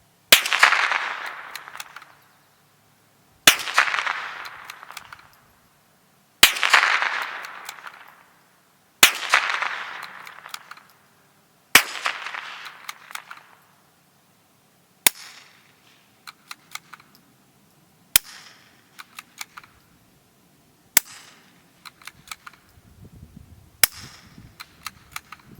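Ten suppressed .22 pistol shots from a Smith & Wesson Victory with a Faxon suppressor, five supersonic then five subsonic. The first five are sharper cracks with short decay, and the last five are quieter clicky pops, spaced about three seconds apart.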